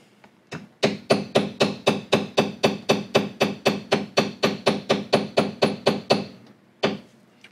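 A mallet strikes a leather beveler while tooling a basket weave pattern, about twenty evenly spaced close sharp taps in a fast steady rhythm, with a couple of isolated knocks before and after.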